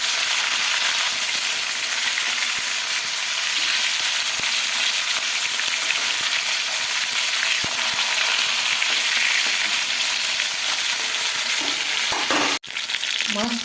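Katla fish pieces frying in hot oil, a loud, steady, close sizzle with scattered crackles that runs unbroken until a brief clatter near the end.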